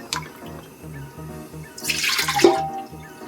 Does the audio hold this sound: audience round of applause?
no